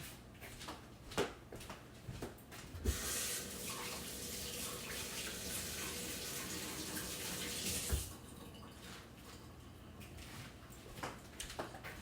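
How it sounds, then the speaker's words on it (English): Water gushes steadily from a kitchen tap for several seconds as hands are washed at the sink, with quieter handling clatter before and after the flow. "Bear with me just a minute while I go wash my hands."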